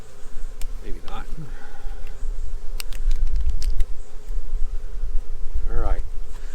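A swarm of honeybees buzzes close and continuously during an alcohol mite wash, a loud droning hum with occasional nearer buzzes and handling knocks.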